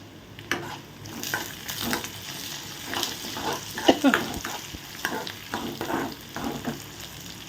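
Lentils and mint sauté in oil over a low flame for chutney, with a gentle sizzle under repeated spoon scrapes and stirring clinks against the pan.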